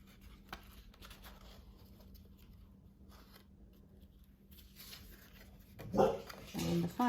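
A dog barks a few times in quick bursts near the end after a quiet indoor stretch, reacting to a car coming through the drive, fairly close and loud.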